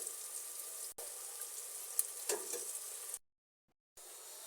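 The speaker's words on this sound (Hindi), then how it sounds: "अब हम इसको अच्छी तरह से भून लेंगे। 1-1, 2-2 मिनट के वक्फे के साथ हम इसको चलाते रहेंगे।" Egg bhurji fries quietly in a pan, a faint steady sizzle with soft stirring scrapes. It cuts out briefly twice, the second time into near silence for under a second before the sizzle resumes.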